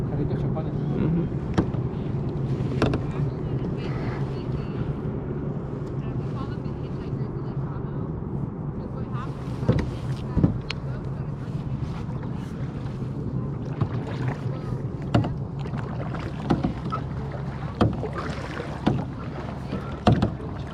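Clear kayak paddled across Lake Tahoe near Zephyr Cove, steady wind and water wash under ongoing conversation, with sharp intermittent knocks and splashes of the paddle against the hull.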